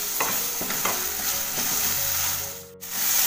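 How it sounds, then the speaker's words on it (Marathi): Masala paste made with chilled ground spice mix frying in a pan for egg masala curry, a steady close sizzle with occasional stirring scrapes and utensil clinks, no talking. "हा बघा मसाला चांगला असा परतून झालाय"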